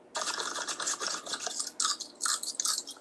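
Crisp, close crunching of an air-fried rice paper pizza roll filled with pepperoni and cheese, a quick series of brittle bites and chews with no talking.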